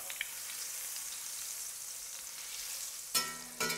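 Butter sizzling faintly in a hot pan as a base for mushroom and onion sauce, a steady soft hiss with a couple of louder crackling bursts near the end.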